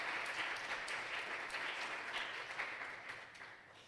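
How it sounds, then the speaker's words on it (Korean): Soft, distant applause from a congregation during a Wednesday university church worship service, steady hand clapping that gradually fades out. "우리 모두 박수 부탁드립니다."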